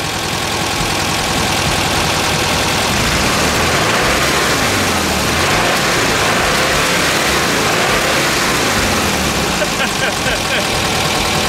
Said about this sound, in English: I didn't rev it up quite so much because I'm not an idiot to rev up an engine that's cold